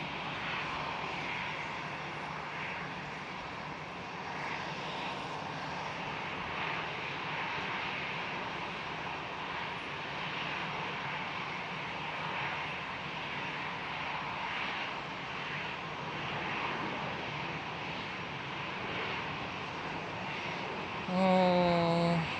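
A United Airlines Boeing 767 airliner at Schiphol, Amsterdam, gives off a steady, moderately distant jet engine drone that holds evenly throughout, ending with a brief louder tonal sound.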